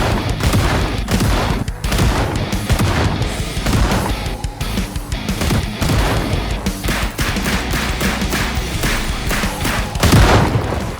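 Shotgun blasts from a 12-gauge and shots from a 9mm pistol in the video game Project Zomboid ring out as loud, dense, irregular bursts of gunfire with heavy booming reports throughout, and no one speaks.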